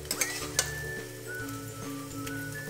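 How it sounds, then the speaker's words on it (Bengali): Rice sizzles and crackles softly as it is stirred and fried in a pan for white pulao, with a few sharp utensil ticks early on and a steady low sizzle throughout. "চালটা আমার খুব ভালো করে ভাজা হয়ে গেছে"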